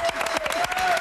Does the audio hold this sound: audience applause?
yes